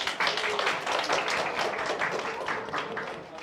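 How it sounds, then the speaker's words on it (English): Audience members at a lecture applaud together, a dense, even wash of clapping that holds steady for a few seconds and then starts to thin out at the end. "Give yourself a hand of applause."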